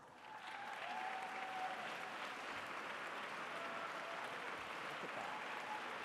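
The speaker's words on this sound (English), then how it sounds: "Can we also get our alumni board to please stand for a round of applause as well?" Audience applause fills a gala hall, a steady, dense clapping from a large seated crowd that swells quickly and holds evenly for several seconds with no voices over it.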